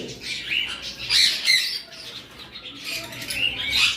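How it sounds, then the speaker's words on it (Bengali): A pair of albino Fischer's lovebirds chirps and squawks in repeated high bursts, close by and fairly loud, with no talking over them. "এখানে একটা পেয়ার অ্যালবিনো লাভবার্ড রয়েছে অ্যালবিনো ফিশার"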